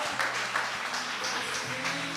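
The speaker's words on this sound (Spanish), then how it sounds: "Dale un aplauso al Señor." A church congregation applauds during a lively worship service, a dense steady wash of clapping with a low sustained organ or keyboard tone underneath and no voices speaking.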